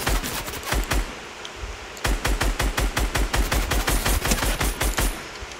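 Rapid, loud bursts of SCAR rifle gunfire in Fortnite, one short volley and then a longer steady string of evenly spaced shots, with no talk over them.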